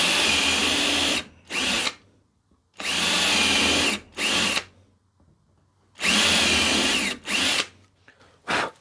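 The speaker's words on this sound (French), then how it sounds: "Alors je vais commencer par tester le perçage. Je vais venir prendre une mèche de 6 mm pour commencer." Ryobi 18V OnePlus drill-driver boring with a 6 mm bit, loud close bursts of about a second each, several spaced runs separated by quiet pauses with brief shorter triggers between them.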